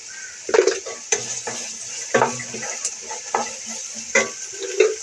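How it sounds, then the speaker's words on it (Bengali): Rice for fried rice is stirred and fried in a pan, with a soft sizzle under repeated scraping and clinking of a spoon or spatula against the pan. "তারপরে ভালো করে একটু নেড়ে চেড়ে ভেজে নেব।"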